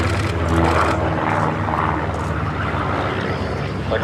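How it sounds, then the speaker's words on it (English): A Chipmunk propeller aeroplane flies at an airshow at Duxford, a steady, loud droning engine and propeller roar that holds evenly with no voices. "The Chipmunk is just like a little fighter."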